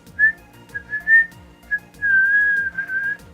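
Someone whistles a short tune nearby: several brief chirpy notes, then a longer sustained warbling phrase, over quiet background.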